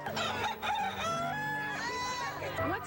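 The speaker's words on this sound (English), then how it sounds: "with a special ear on the rooster crowing contest" Several roosters crow loudly at a rooster crowing contest at the Erie County Fair, their calls overlapping amid the background noise of a crowd.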